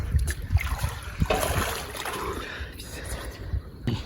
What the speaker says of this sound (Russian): Ты слышишь, воду?